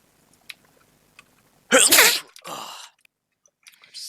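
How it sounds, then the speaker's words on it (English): A single loud, sharp human sneeze bursts out close to the mic, followed by a short breathy exhale amid otherwise quiet surroundings. "I just sneezed everywhere."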